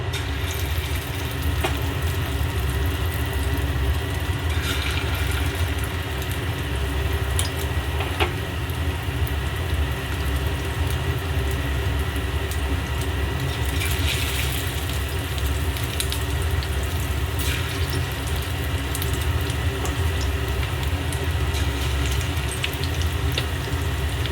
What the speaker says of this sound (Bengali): এবার একটা একটা করে ম্যারিনেট করা চিকেনগুলোকে ভেজে নেবো